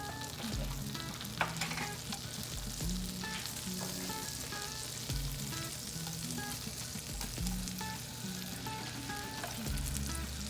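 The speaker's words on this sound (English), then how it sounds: "we're going to add about 2 tablespoons of minced garlic." Two tablespoons of minced garlic sizzle in a pan of melted butter for shrimp and grits. A steady, loud frying hiss runs throughout, with light stirring clicks and scrapes and no talking.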